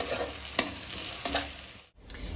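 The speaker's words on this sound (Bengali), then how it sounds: "ঠিক এই পর্যায়টাতেই ভাসুন বাটা আদা রসুনটা একটু নাড়িয়ে নেব যাতে কাঁচা গন্ধটা কেটে যায়" Onions and ginger-garlic paste sizzle and fry in a pan while a spoon stirs them, two distinct scraping strokes over a steady close-up hiss.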